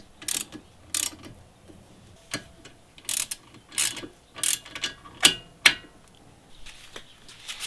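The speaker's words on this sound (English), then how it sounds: "take a 14mm socket and just tighten these down" A ratchet with a 14mm socket tightens brake caliper bolts in a series of sharp, close clicking bursts, each a quick ratcheting rattle separated by short pauses, with no talk.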